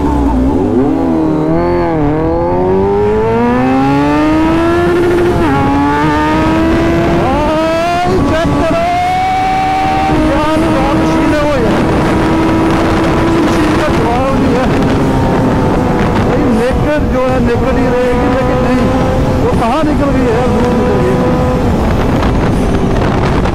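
Kawasaki ZX-10R and Z1000 motorcycle engines rev up and down repeatedly, rising and falling in pitch, loud and close with wind noise buffeting throughout.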